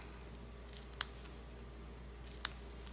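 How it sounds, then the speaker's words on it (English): Scissors cut paper for a handmade shaker card, giving two crisp, quiet snips about a second and a half apart against a hushed room, with no talking. "I'm going to go ahead and cut this one."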